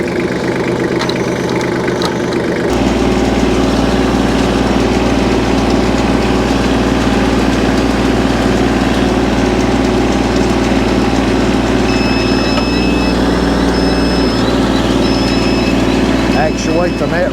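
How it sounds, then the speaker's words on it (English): A farm tractor engine runs steadily while baling with a Redlands 330 net wrap baler, a loud, constant low drone close by, with mechanical whirring layered over it and a person talking at the start. "our only tractor on the farm obviously is in use"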